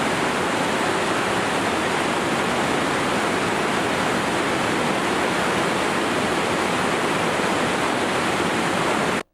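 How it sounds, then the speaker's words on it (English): The Lower Falls of the Yellowstone River roaring as a broad, constant wash of falling water, steady and loud with no break. "The Yellowstone River, the lower falls."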